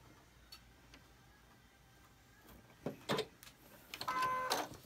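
A sewing machine slowly stitches fabric while paper-piecing a quilt block, running in two short, fairly loud bursts of motor whir and needle ticks after a quiet stretch.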